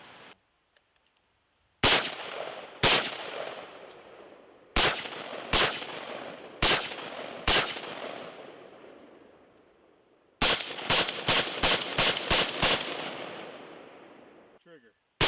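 A Beretta ARX100 rifle fires a series of sharp, loud single shots, first spaced irregularly, then in a quicker string of six or so near the end, each with a short decaying echo.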